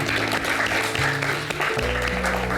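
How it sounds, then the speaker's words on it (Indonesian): Steady applause from a group rewarding participants at the end of a discussion segment, with a low music-like tone underneath throughout. "tepuk tangan dulu buat kalian semua."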